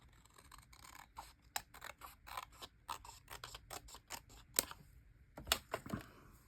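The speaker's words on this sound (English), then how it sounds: "I don't know why I cannot cut evenly." Scissors cutting paper for a journal, a quick run of close, crisp snips and slicing strokes, some sharper than others, with a brief pause before a final cluster of cuts.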